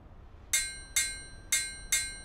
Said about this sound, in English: With this hammer, I will now hit the track pads of every chain link.